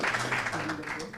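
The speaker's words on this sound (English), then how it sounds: "Let's give him a round of applause." Audience applause at a live Nedbank Runified Breaking Barriers running event, a short burst of dense, steady clapping with a crowd murmur beneath it.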